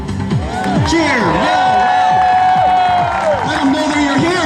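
A crowd at a NAS Patuxent River air show cheers and whoops for a US Army Golden Knights parachute jump, excited shouts rising in waves around the spectators.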